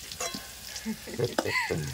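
Potatoes fry in a pan while home cooking, giving a close, continuous sizzle with scraping stir sounds and a few soft voices in the background.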